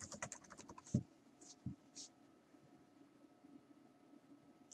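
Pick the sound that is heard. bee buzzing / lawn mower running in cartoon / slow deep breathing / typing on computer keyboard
typing on computer keyboard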